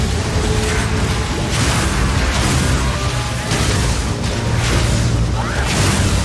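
Incendiary bolts going off in the video game Path of Exile 2, a loud, dense run of booming fiery blasts and mechanical clatter that fills the whole stretch without a break.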